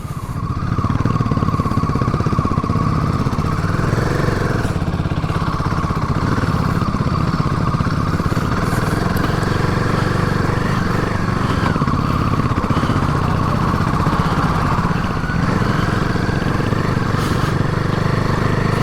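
A motorcycle engine drones steadily at low revs in a low gear on a mountain road, loud and close with constant wind rush and no pauses.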